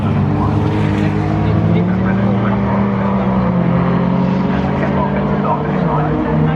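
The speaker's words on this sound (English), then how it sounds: "Six-cylinder Corrado, not only looking good but sounding good" A six-cylinder VW Corrado race car on the Snetterton circuit during a race day, its engine a steady, loud drone that holds throughout with no clear pass-by peak, under a commentator's continuous talk.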